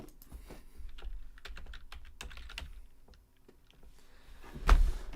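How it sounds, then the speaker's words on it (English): A computer keyboard is typed on nearby in quick, uneven bursts of soft clicks, with a louder thunk near the end. "I was typing in one word"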